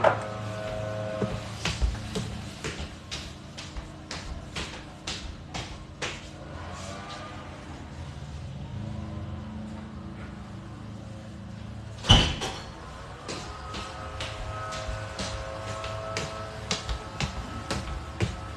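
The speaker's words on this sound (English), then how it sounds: "let me close the door, it's too loud." A door pushed shut indoors lands as one loud, sharp thud midway, set against steady clicking and rustling room noise with gardening work audible from outside.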